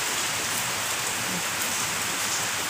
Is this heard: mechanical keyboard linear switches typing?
no